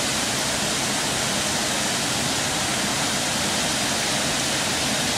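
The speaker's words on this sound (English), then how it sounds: "Beautiful little waterfall." A steady, broad rushing of falling water fills the whole stretch, constant and fairly close, with no talking.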